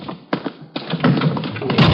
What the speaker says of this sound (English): Just a minute, I'll get the door here.